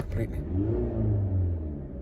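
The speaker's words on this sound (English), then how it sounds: "Press accelerator completely." Car engine revving hard as the accelerator pedal is pressed fully to the floor, a steady loud mid-low roar held for about two seconds with a brief rise and fall, close by.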